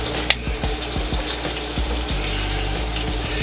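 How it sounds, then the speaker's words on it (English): Beef broth pours in a steady, splashy stream into a Power Pressure Cooker XL, close and continuous with no talk. "I'm going to put in about 1 cup of beef broth."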